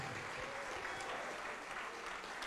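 A church congregation applauds in the name of Jesus, a dense, steady wash of clapping from many hands that stays even throughout, with no pause.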